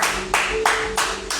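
Congregation applauding during a church service, bursts of close, dense clapping in quick swells about every third of a second.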